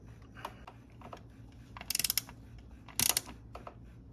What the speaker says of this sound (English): So we're going to tighten this down as tight as we can.